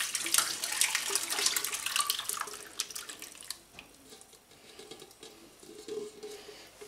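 Whey and curds of homemade cheese are poured into a strainer, giving a sloshing, splashing pour that starts strong and thins to trickling and dripping.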